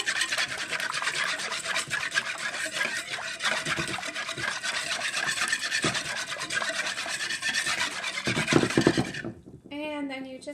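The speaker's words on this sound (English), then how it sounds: "Next, I take a whisk and I just whisk it all together." Yeast, water and cane sugar are whisked together in a bowl for bread dough, giving a steady close scraping and rasping rhythm throughout before it stops near the end.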